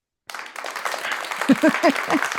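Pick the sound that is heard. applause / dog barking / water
applause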